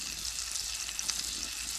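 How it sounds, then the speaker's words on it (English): New York strip steak seasoned and frying in butter at a campsite, a steady bright sizzle that holds evenly throughout, close and alone with no talk. "Just put it on, frying it in butter, seasoned"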